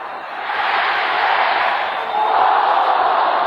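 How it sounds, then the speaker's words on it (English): Football stadium crowd during a Tampa Bay game, a broad, roaring wash of many voices yelling continuously, loud and sustained, swelling slightly toward the end. "Crowd yelling, get that ball."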